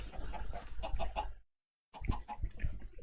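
Chickens in Minecraft cluck repeatedly up close, a burst of rhythmic calls, a brief silent gap, then more clucking resuming at similar loudness.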